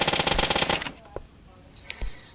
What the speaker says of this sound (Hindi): उसको मैं हेडशॉट मार देता हूँ